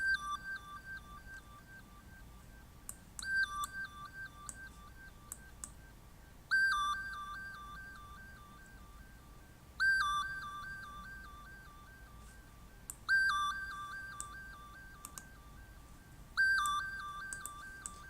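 Bright, buzzy electronic beeps repeat in short melodic bursts, a hollow square-wave synth tone sounding in clustered phrases with brief pauses between.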